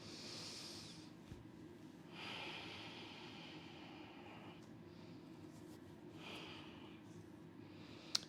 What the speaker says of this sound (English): Take a few cleansing breaths here.